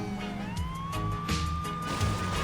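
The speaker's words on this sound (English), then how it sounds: "Do you hear the siren?" A police car siren from the Saints Row 2 video game wails close and loud, its rising and falling tone sweeping on its own with no talk over it.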